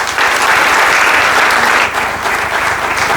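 A loud, sustained round of audience applause at a Spanish fighting-bull breeders' association book presentation, the dense clapping holding steady with a slight dip partway through before swelling again.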